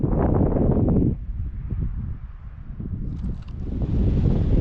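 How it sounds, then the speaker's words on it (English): Wind gusting across an exposed mountain top at Idaho Point on a backcountry hike, buffeting the microphone with a loud, rough roar at the start and end and easing into a quieter rush in between. "a little windy up here, not sure if you can hear me"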